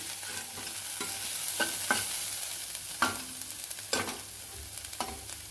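Garlic and fenugreek leaves fry in a pan with a steady, soft sizzle, broken by periodic scraping strokes of a spoon stirring them, close up and with no voices.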